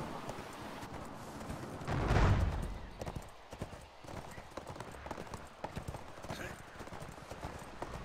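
Horses gallop across a battlefield in the online game ArcheAge, a steady clip-clop of hooves with a louder surge near the start, mixed with ambient game noise and a busy multiplayer soundscape.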